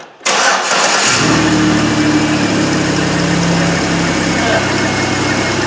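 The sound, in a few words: Chevy Impala engine running with rotted-off dual mufflers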